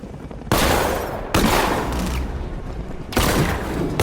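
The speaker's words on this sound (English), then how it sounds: "Fires non-lethal rounds." Batmobile in the video game Batman Arkham Knight firing non-lethal rounds: three loud sustained bursts of rapid gunfire, each roughly a second long, separated by brief lulls with lingering rumble.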